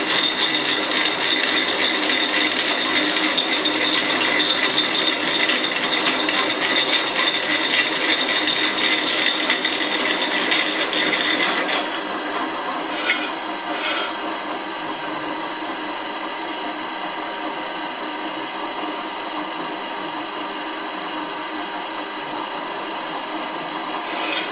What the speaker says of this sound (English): we're just drilling the holes, the clearance holes. I'm just doing it in the drill press